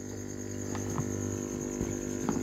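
A steady low electric hum with a faint whine, continuous and close, from a 3.5W aquarium air pump running on its high setting with a slight buzz.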